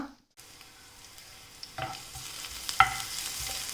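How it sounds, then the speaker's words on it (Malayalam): Crushed garlic dropped into hot coconut oil, a quiet sizzle that starts after a brief silence and builds with a few soft clinks of a utensil. "എണ്ണ നല്ലപോലെ ചൂടാവുന്ന സമയത്ത് ഇതിലേക്ക് ഒരു പത്തല്ലി വെളുത്തുള്ളി ചതച്ചത് ഇട്ട് കൊടുക്കാം"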